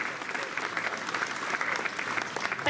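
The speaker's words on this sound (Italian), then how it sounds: "Federica, la accogliamo con un applauso." Audience applause welcoming a speaker at a local electoral list presentation evening, a steady, even clapping from a moderate crowd lasting throughout, with no talk over it.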